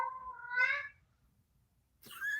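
A cat meows twice, each call a rising, drawn-out tone, with a short silent gap between them; the cries are close and fairly clear against a quiet background.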